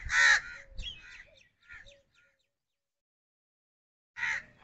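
Crows caw among trees in a quiet spot in Pakistan: a loud harsh caw up close, a few fainter calls after it, a long silence, then another loud caw at the end.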